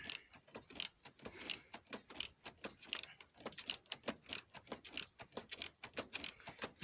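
Oil drain plug being unscrewed on a Ford Fiesta 1.4 TDCi diesel, heard as quick rhythmic metallic clicking and rattling in uneven bursts, close and fairly quiet, with no talking.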